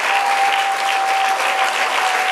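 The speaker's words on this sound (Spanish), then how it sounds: "Denle un aplauso al Señor." Strong, dense applause from a congregation at a church women's meeting fills the space evenly and loudly throughout, with a faint steady tone running beneath.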